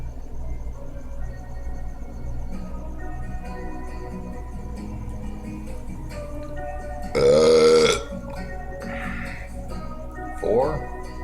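A man lets out a loud, drawn-out burp lasting about a second, then a shorter second burp follows; a television plays talk underneath and crickets chirp steadily in the background.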